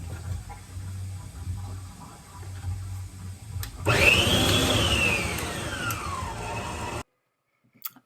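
An electric mixer starts up and whirs loudly, beating peanut butter and butter into peanut butter cookie dough. A pitch sweeps downward as it spins up, after a low background hum, and then it cuts off abruptly.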